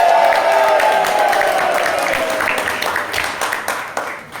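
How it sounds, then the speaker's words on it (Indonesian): Audience applause in a company gathering, a dense burst of clapping that starts full and gradually thins and fades, with a few scattered claps near the end. "Kalian harus tepuk tangan untuk diri kalian."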